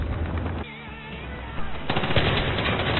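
Loud, close bursts of automatic gunfire from the video game Battlefield 3, rattling rapid-fire in dense volleys with a brief lull before the shooting picks up again.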